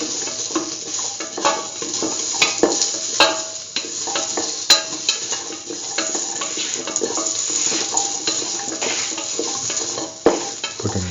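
Potato filling stirred in a pan: a steady soft sizzle with continuous scraping and stirring of a utensil against the pan, broken by a few sharper clinks, and no talking.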